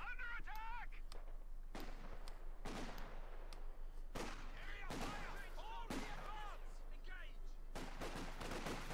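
A Vickers machine gun in a multiplayer war game fires repeated sharp bursts and scattered shots across a battlefield, mixed with distant explosions, while voices talk intermittently over the fire.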